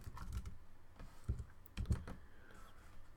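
Computer keyboard typing in short clustered bursts of quiet key clicks, a few keystrokes at a time with brief pauses, close and fairly soft, no voices.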